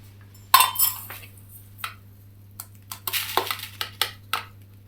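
A knife is pushed under the lid of an airtight jar, giving a sharp metallic click and then a run of clinks and glassy taps over a steady low hum.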